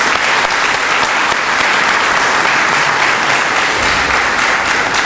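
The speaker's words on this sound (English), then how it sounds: "please give yourselves a round of applause" Loud, dense audience applause fills a debate hall without a break, a continuous roar of many hands clapping close by.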